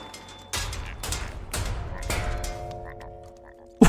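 Frogs croak in an animated Avatar episode, a series of loud broad bursts repeating about once a second, followed by a steadier tonal warble near the end.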